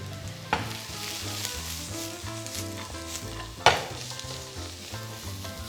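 Chopped carrot and beans stir-fried on high flame in a pan for chicken fried rice, a steady loud sizzle with two sharp clanks of a utensil against the pan, under soft background music.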